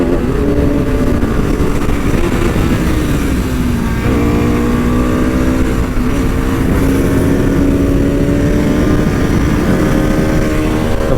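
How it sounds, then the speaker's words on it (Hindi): A superbike ridden in a race, its engine droning loud and steady with pitch swells as it revs and shifts, continuous throughout with no pauses. "अलियान भाई की सुपर बाइक क्या मस्त भाई राइड कर रहे हैं।"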